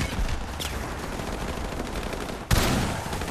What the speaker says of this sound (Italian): E ancora svuotare tutto l'intero caricatore di missili.